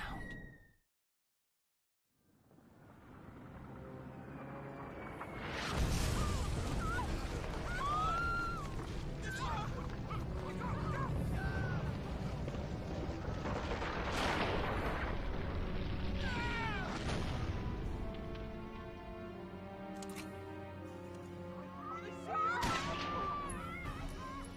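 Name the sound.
explosion in video game Valkyria Chronicles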